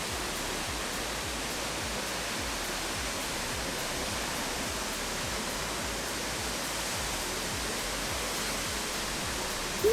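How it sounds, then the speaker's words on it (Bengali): A waterfall in Arunachal Pradesh, with clear water falling from a great height in a strong, fast flow, roars as a steady, dense rush of water that fills the whole scene from start to finish, with no voices. "চারিদিকে শুধুই ঝর্ণার জলের আওয়াজ, জলের প্রবল গতি এবং এত উঁচু থেকে স্বচ্ছ জল পড়ছে"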